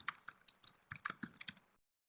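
Fingers type on a computer keyboard in a quick, uneven run of about a dozen crisp key clicks that lasts under two seconds, then stops into silence.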